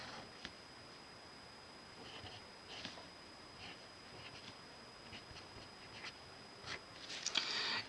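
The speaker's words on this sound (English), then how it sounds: "I'm going to write parentheses." Faint, sparse scratches and taps of a pen or marker writing math on a board, in short intermittent strokes against quiet room tone, a little busier at the end.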